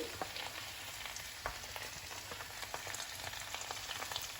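Tomatoes for a paneer butter masala gravy fry in a pan, giving a steady, close sizzle scattered with small crackles and pops, with no voices.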